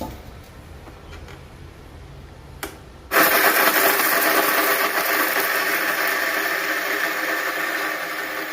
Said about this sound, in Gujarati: સાયણીમાં જે વધે એને પાછું મિક્સરમાં નાખી દેવાનું અને ભૂકો કરી દેવાનો પાછો.